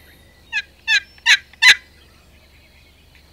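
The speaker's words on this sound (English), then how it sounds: "Bunch of turkeys." Wild turkeys on a cactus flat gobble in four short bursts in quick succession, fairly close and clear against a quiet outdoor background.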